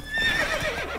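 Horse neighing in The Witcher 3 video game, a single short whinny close by with faint hoof sounds underneath.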